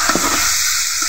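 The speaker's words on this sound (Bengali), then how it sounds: "টাকি মাছগুলোকেও ছুরির সাহায্যে এভাবে 2 মিনিট কষিয়ে নিতে হবে।" Spotted snakehead fish (taki) sautés in a pan, stirred with a knife, giving a loud, close, steady sizzling hiss with a couple of soft scraping knocks near the start.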